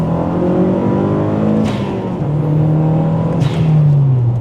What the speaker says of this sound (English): It has a nice rumble to it at the lower RPM.